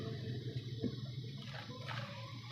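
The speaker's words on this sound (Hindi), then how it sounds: "इसके अंदर थोड़ा सा और डाल देंगे इसके अंदर पानी, ताकि ये दाल जो है इसी पानी में गलेगी" Water is poured into a cooking pot of chana dal for a Pakistani dal recipe, making a quiet, soft splashing trickle that comes and goes over a couple of seconds.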